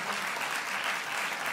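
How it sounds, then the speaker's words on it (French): Audience applause fills the room at a tech festival as a speaker from the French Tech joins the stage, a steady, dense clapping that holds at even loudness throughout with no pause. "On peut l'applaudir très très fort."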